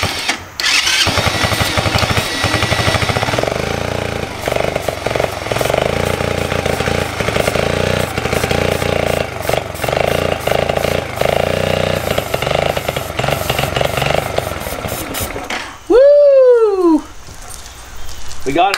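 A 50cc quad that had sat unused for years runs loud and close after a carburetor cleaning, its small engine buzzing steadily and raggedly before a brief high whine near the end.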